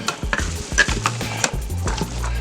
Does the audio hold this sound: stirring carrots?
yes